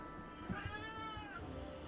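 A black cat meows in a kitchen, a single drawn-out cry at moderate distance over a steady background hum, with some soft handling noises.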